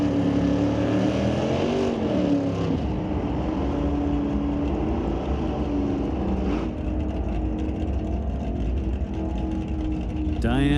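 A small-block Camaro drag car accelerates down the strip, its engine note rising through gears and fading slightly, under a constant loud public-address commentary voice at a drag racing event.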